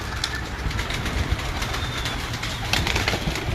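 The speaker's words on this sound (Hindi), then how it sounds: "एक बार सारे कबूतर निकाल दें भाई, ताकि दोस्तों को बैठे एक बार शो करवा दें" Pigeons kept on a rooftop, with soft bird sounds and faint cooing over a steady outdoor background rumble, continuous and moderately distant throughout.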